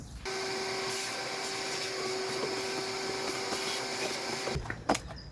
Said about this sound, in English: We're going to go ahead and vacuum that out.